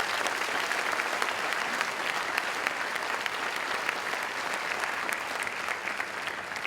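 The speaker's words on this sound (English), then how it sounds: "So let's give another round of applause to this class sitting up here tonight." Sustained audience applause at the JIS Class of 2017 graduation ceremony, a dense, steady patter of many clapping hands filling the hall without pause for several seconds.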